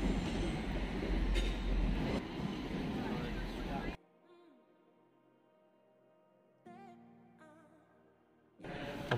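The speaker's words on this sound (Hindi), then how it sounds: "ये ट्रेन कॉलेज कैंपस के बीच में से ही होकर गुजरती है।" A train rumbles loudly through a college campus in Dublin, a steady heavy roar with rail clatter that cuts off abruptly, leaving quiet background with faint voices before another burst of noise.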